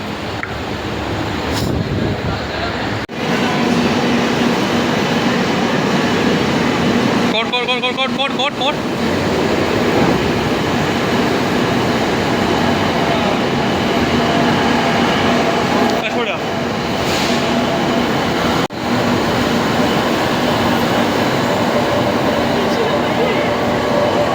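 Metro train rumbling at Shobhabazar metro station in Kolkata, a loud continuous roar of the train and platform with brief gusty swells, close and dominant, with voices speaking over it.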